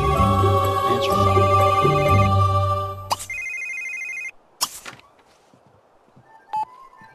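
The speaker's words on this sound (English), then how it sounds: "Oh, somebody's phone's ringing." A telephone rings in The Sims 3 household game, a loud repeating electronic ring over background game music for about three seconds, followed by a few softer clicks and tones.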